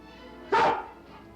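A single short, sharp dog bark from a collie in an old cartoon, loud and close over faint background music.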